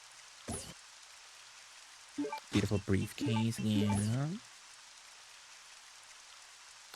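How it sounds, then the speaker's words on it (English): Steady rain hiss from the Resident Evil Code: Veronica X game runs throughout, with a short stretch of conversation laid over it. "I'm hearing the rain sounds right now"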